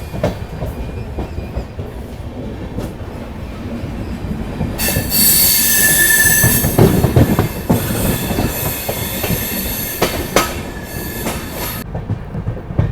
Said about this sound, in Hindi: नंबर प्लेटफॉर्म पे आई थी अपनी शताब्दी एक्सप्रेस और सिग्नल हो गया तुरंत यहाँ से निकलने का